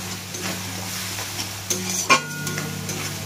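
Masala spices sizzle in a hot pan while being prepared for fried Maggi noodles with egg. A spatula stirs and scrapes against the pan in short strokes, with a few sharp metallic clinks over the steady frying hiss.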